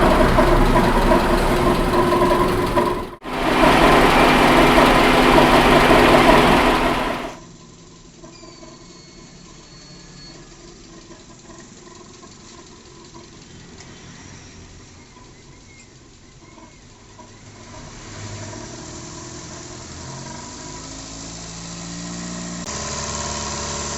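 A car engine held at raised revs of about 2,500 RPM during an engine decarbonization service, a steady mid-pitched hum with vibration; a loud burst early on, then a quieter continuous drone.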